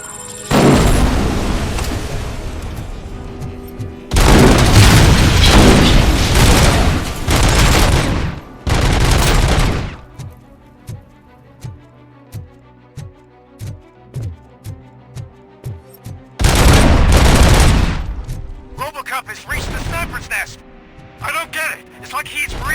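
Gunfire in the RoboCop: Rogue City video game comes in loud, dense bursts of shots and booms, broken by quieter stretches of scattered single shots and mechanical clatter.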